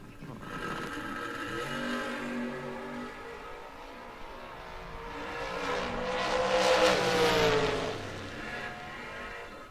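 A 1969 Camaro drag race car runs down the strip at a drag racing event, a steady engine roar that swells louder toward the end as it passes fairly close, with no voices.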